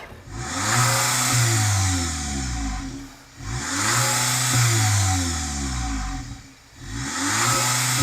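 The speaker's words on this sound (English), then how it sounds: "Go on, start the Polo. Give it some revs." A turbocharged four-cylinder VW Polo GTI engine revs hard three times in a row, each rise a sustained roaring climb that falls back to idle, close and loud.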